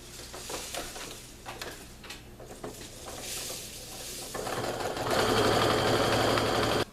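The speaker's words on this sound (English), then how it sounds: "I'm just going to sew right off the edge, turn the work, and then sew down that bottom half of that pillowcase" A sewing machine stitches down a pillowcase seam with a fast, steady mechanical whirr. It runs in short bursts, then a longer continuous run near the end, close and moderately loud.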